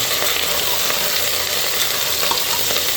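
Vegetables for khichuri fry slowly in a pan, giving a steady, close, dense sizzle and crackle throughout with no talking.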